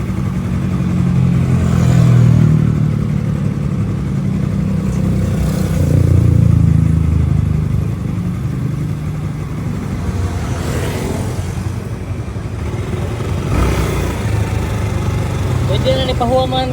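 A motorcycle engine idles with a steady low chug and swells into two short revs early on, then settles back to a rough idle while voices talk nearby.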